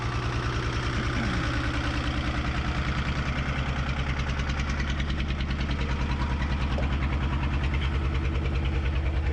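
A 1975 Chevy diesel stepside pickup rolls slowly forward in fourth gear without throttle, its engine giving a loud, steady low rumbling clatter with an even rhythmic pulse throughout.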